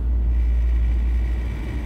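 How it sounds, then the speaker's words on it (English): Low, steady road rumble fills the cabin of a car crawling along in traffic, a deep engine and tire drone with no talking over it. "Sitting in traffic, coming down the road, so excuse the road noise again."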